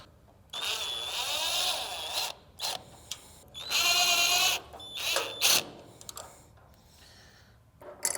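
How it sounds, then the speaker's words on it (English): A power screwdriver backs out two Phillips screws from the control-panel bezel of a Camp Chef Gridiron 36 griddle, with several whirring bursts of varying length separated by short pauses, close and fairly loud. "we're going to remove these 2 screws on that bezel"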